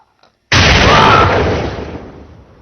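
A single loud, close explosion bursts suddenly after a brief silence, then its roar slowly fades away over the next two seconds.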